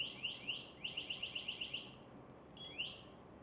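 An MSA G1 breathing apparatus control module sounds a loud, near electronic alarm of rapid repeating chirps in bursts, with short pauses between groups, and no talk.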